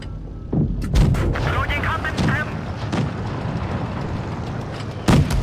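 A heavy tank gun in the World of Tanks video game booms out with a deep rolling blast, followed later by a second sharp shot, under steady engine rumble and someone talking in Thai.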